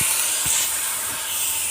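Water hits a hot pan of spiced, salted greens and sets off a close, steady, hissing sizzle that fills the whole brief moment.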